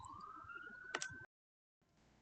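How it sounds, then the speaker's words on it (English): Emergency siren passing outside, a steady wailing tone with a brief louder burst, heard indoors before cutting to silence and then faint room noise. "that was to let some sirens go by"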